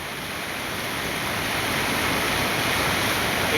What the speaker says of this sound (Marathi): पाण्याचा हाहाकार बघा